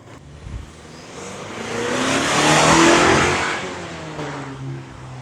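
A Chevrolet Colorado midsize pickup truck drives past, its engine swelling to a loud peak midway and then fading, a smooth passing roar heard alone.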